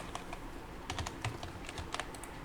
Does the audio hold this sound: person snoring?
no